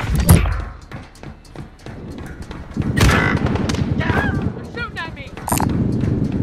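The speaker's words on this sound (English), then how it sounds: "They're shooting at me." Gunfire in Call of Duty Warzone, rapid bursts and heavy thuds from automatic weapons mixed with game effects and a speaking voice over the top.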